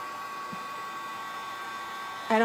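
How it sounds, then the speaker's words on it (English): A heat gun blows on a candle as a steady, moderately loud airy whirr with a faint tonal whine, swelling slightly louder near the end. "Now what I'm gonna do is I'm gonna take my heat gun."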